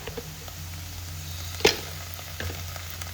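Onions with ginger-garlic paste frying in a pan, a soft steady sizzle throughout with one sharper clack of a spoon or pan near the middle and a faint knock toward the end.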